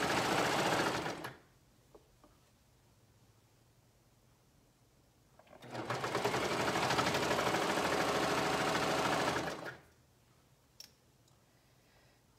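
A sewing machine stitches the side seams of a dress in two bursts, a short run at the start and a longer steady whir in the middle, close and fairly loud, with quiet pauses between and a few faint clicks afterward.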